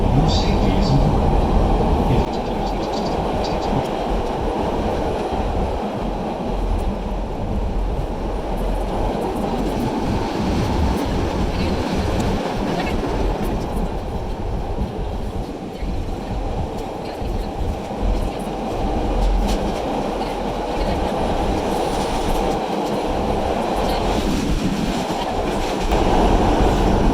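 A CTA Blue Line subway train bound for O'Hare rumbles along underground, loud and continuous with clattering wheels and rail noise, while voices speak over it at times.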